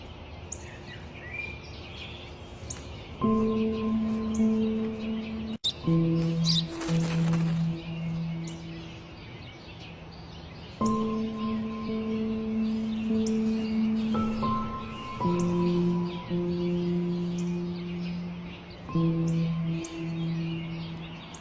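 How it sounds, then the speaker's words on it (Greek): A sparrow chirping in repeated short bursts of bright tonal calls, several separate phrases with pauses between, fairly close over a quiet background. "είναι ένα σπουργίτη!"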